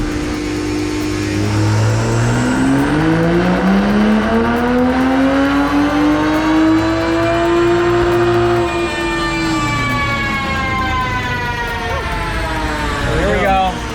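Car engine on a dyno running race gas with chilled intake air, revving in one long pull that climbs steadily in pitch, loud and close, then drops off near the end.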